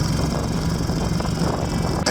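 A Tao Tao T135DX 125cc ATV engine runs steadily while riding, a loud continuous rough drone with wind-like noise that holds through the whole stretch.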